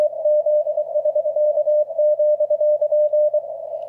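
Morse code CW signal received on the 40 meter amateur band, a steady single-pitched tone keyed in rapid dots and dashes, loud and clear over faint background hiss, with no voices.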